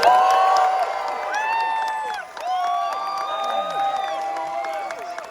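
Audience at a BFI IMAX cast and director event in the UK cheers and applauds for the Fantastic Four: First Steps cast, a loud continuous crowd roar with whoops and a brief dip midway before swelling again.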